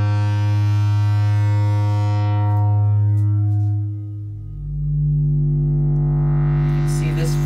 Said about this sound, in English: I came up with a pretty cool flanger patch using a 277 style delay and a square wave oscillator.